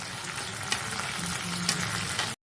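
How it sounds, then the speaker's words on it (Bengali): Capsicum and chopped green chilli fry in a pan with garlic and salt, a close, steady sizzle with light stirring scrapes, cut off briefly near the end. "এবার ক্যাপসিকামগুলোও দিয়ে দিচ্ছি, সঙ্গে একটু কাঁচা লঙ্কা কুচি।"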